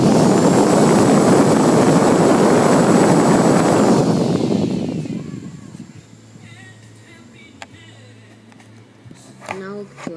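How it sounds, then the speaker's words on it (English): A Delta BFB0412HHA blower fan screams at very high RPM with a loud roaring rush and piercing whine for about four seconds, then winds down into a fading hum with faint clicks. "let's hear it go hyperspeed over"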